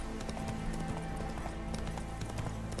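Roach, the horse in The Witcher 3, gallops with steady, rhythmic hoofbeats that sit fairly quietly under a constant bed of game music and ambience.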